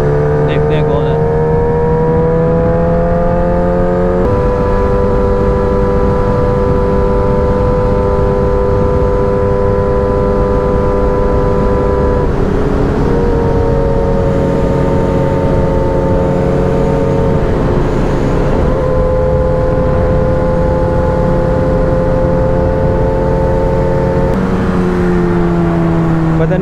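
A Kawasaki Ninja 636 motorcycle ridden on a morning road ride, heard as a loud, continuous engine drone with sustained tonal harmonics that step in pitch several times, like gear changes, mixed with wind noise.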